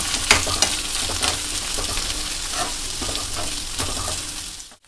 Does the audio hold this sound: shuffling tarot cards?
no